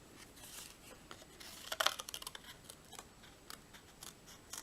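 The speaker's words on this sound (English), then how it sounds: "get out our scissors and cut that out." Scissors snipping out a paper mermaid piece along the fin for a handmade card, a run of close, crisp cutting clicks that cluster most densely in the middle, with no talk.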